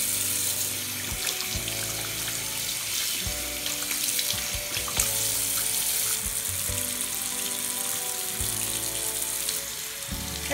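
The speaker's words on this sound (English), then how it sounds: "the first thing I do is turn on the water and make sure it's warm." Warm water runs steadily from a tap into a sink, ready for a teddy guinea pig's bath, a continuous close splashing hiss that fills the whole stretch with no speech.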